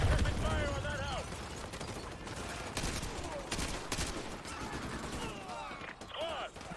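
A squad lays down suppressing gunfire in Call of Duty: Modern Warfare 2 Remastered, with bursts of rapid shots and sharp cracks rising and falling over game audio as a voice speaks.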